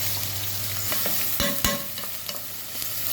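Onions go into hot oil with lamb fat in a pan for beef kammounia and sizzle loudly at close range, with a couple of sharp bursts from stirring midway and no talk.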